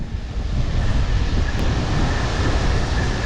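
Strong wind roars steadily against the microphone outdoors, a dense broadband rush with no voices.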